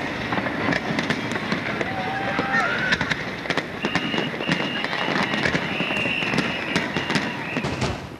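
Millennium New Year's Eve fireworks bursting over a river, a continuous crackle and boom of explosions filling the scene with dense, loud noise and sharp bangs throughout, with faint calls and voices mixed in.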